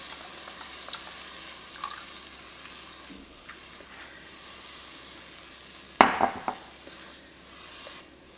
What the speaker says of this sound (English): Now it's time to add our milk, our almond milk. And we're going to add that slowly, stirring at the same time.